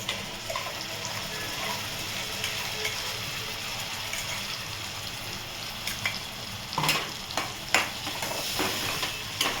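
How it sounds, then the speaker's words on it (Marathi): A paste of ground cashew, tomato, garlic and ginger fries in hot oil for a soybean butter masala, giving a soft steady sizzle and hiss with a few sharp stirring scrapes near the end. "आता हे मिश्रण चांगलं तेल सुटेपर्यंत फ्राय करून घेते मी, चांगलं परतून घेते"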